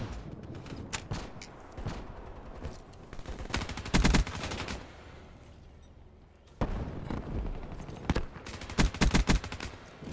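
Rapid bursts of automatic gunfire from a Dingo gun in a first-person shooter video game, loud and close, firing in several long rattling volleys separated by brief pauses.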